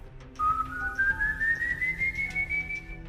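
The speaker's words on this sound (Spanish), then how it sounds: "muy a lo lejos, se escuchó un silbido suave, casi amable" A soft, thin whistle rising slowly in pitch, held as one long gentle tone over a quiet background.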